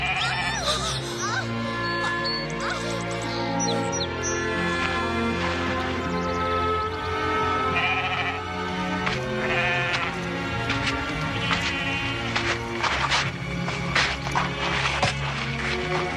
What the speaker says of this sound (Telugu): గొర్రెల మందని ముందుకు తోలండి, చెప్పినట్టు చేయండి.